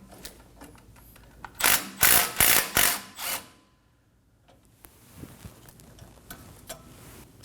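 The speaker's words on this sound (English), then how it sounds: "Now we can go ahead and remove this nut that holds the hose in place." A 13mm socket wrench ratchets a nut off the front brake hose on a 2017-2024 Nissan Armada, with a loud burst of rapid mechanical clicks that fades to quiet workshop background.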